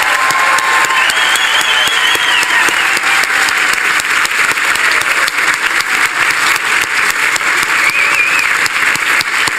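Loud, sustained applause from a crowd at a 2018 nursing pinning ceremony for the graduating class. Thick, continuous clapping fills the space at full volume, with faint cheers rising briefly above it.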